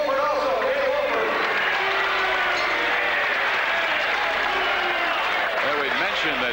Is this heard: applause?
yes